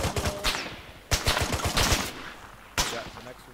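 Gunfire in the military shooter Arma 3: rapid bursts of automatic rifle fire in three volleys, sharp cracks with short gaps between, moderately loud and trailing into faint echo.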